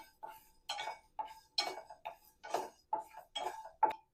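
A utensil clinks against a pan in a quiet kitchen as pepper, cumin, fennel and curry leaves dry-roast, about ten short, evenly spaced metallic taps and scrapes, close and clear.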